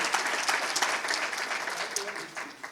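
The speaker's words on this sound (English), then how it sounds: "One more round of applause for the birthday boy." At a school district's Teacher of the Year awards program, a crowd breaks into warm, continuous applause, close and fairly full, with a few cheers, dropping off near the end.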